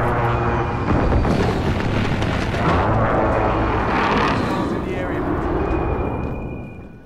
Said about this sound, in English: Airstrike inbound.